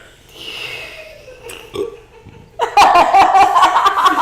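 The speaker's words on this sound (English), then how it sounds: "Burp it out." A loud, drawn-out burp comes from a person during a tabletop game session, with fainter noises before it, and is quickly swamped by lively laughter and chatter.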